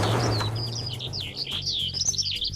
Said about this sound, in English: The chirping of birds?